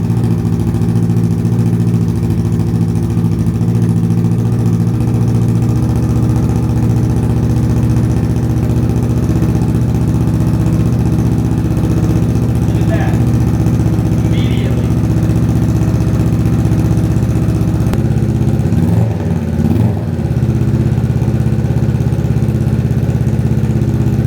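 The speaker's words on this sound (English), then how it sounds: "The main thing is you want to start the bike to check for oil leaks" A Kawasaki Ninja 650 motorcycle engine idles after an oil change, a loud steady close-up rumble that runs unbroken throughout with a brief dip near the end.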